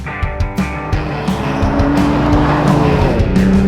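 Race car braking hard into a track corner, loud close engine roar with tire squeal and skid building into a sustained high whine, no talking.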